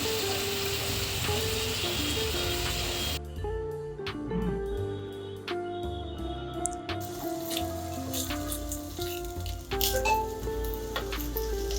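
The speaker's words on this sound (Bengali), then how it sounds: "মাংসটা আমি ফ্রাই করব।" Chicken meat frying in mustard oil in a pan, a continuous sizzle that drops after a few seconds and then crackles on with scattered pops and drips, heard up close with no talk.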